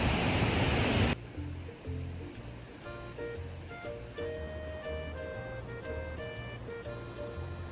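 Steady rushing water from the Shallows waterfall in Wales roars loudly at first, then carries on beneath a melodic tune with sustained notes for the rest of the clip.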